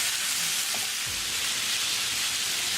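Sweet potato and lima beans are stirred into a spiced tadka, a loud continuous sizzle of hot oil with a low scrape of the spoon partway through, close and without talk.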